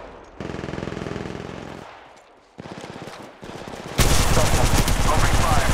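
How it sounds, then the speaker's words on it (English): Automatic weapons fire in an Apex Legends ranked match: loud, rapid bursts of gunfire come in several long strings, with a brief lull between them and the heaviest volley at the end. "Shots fired, and they're hitting me."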